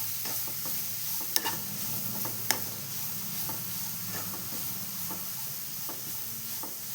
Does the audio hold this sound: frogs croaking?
no